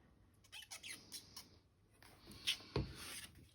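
Tape is peeled off paper on a handmade paper craft box, giving short scratchy rips and squeaky rubs, close and quiet, ending in a couple of sharper tearing bursts.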